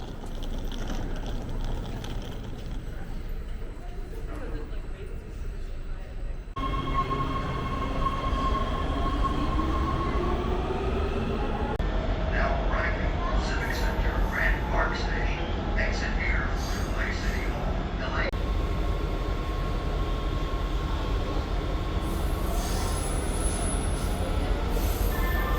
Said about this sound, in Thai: มารอรถไฟที่ชานชาลาฝั่งที่มุ่งหน้าไป Union Station